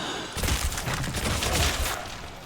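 A Thompson submachine gun fires in World at War Zombies, a loud rapid burst of shots lasting about two seconds, dense and close, with no talking.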